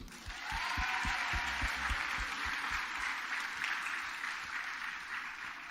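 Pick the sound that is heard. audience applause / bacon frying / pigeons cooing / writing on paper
audience applause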